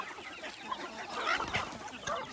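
Free-range country chickens cluck steadily on a half-acre natural farm, several birds calling close by in a continuous, overlapping stream of short clucks.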